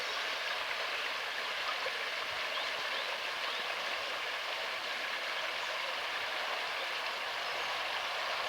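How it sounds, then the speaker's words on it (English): Clear chalk-stream water runs steadily under a small footbridge at a spring-fed village mill, a constant broadband rushing and babbling with no pauses and no voices. "Let's have a listen to the water running under the little footbridge."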